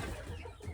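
Chickens on a farm clucking in a short, steady burst, close to the microphone and fairly quiet, with no talking.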